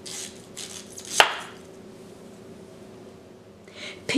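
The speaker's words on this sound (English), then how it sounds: "With a knife, cut both ends" A single sharp knife cut slicing the end off a jautia (taro root) on a board, close and distinct, with a second cut starting at the very end over a quiet room hum.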